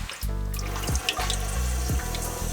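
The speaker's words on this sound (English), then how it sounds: "pop the shower nozzle off of here and let the rest of that antifreeze drain out" Antifreeze drains out of a van's shower hose after the nozzle is popped off, giving a steady, close running-water sound in several bursts with short pauses between them.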